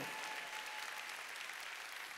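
A church congregation claps hands together during a Sunday worship service, giving a steady, even wash of applause throughout.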